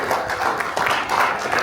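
A crowd claps in a dense, steady patter of applause.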